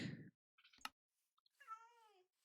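A Minecraft cat gives a few short, thin meows, brief and separated by silent gaps, with a small rustle in between.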